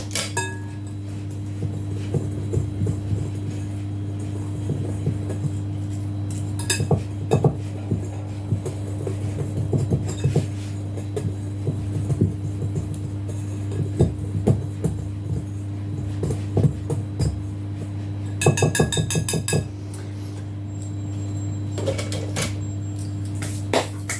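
A whisk rattles and clinks rapidly against a bowl while coffee cake batter ingredients are mixed, a fast, steady metallic ticking over a constant low hum, with brief pauses.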